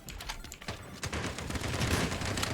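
Rapid gunfire from a shooting video game, with a pump shotgun among the weapons, crackles in dense continuous bursts that build in loudness across the whole stretch, with no talk over it.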